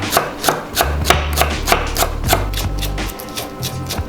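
A knife thinly slices a stalk of green onion on a cutting board, producing quick, steady, evenly spaced chops close up with soft board thuds and no talking.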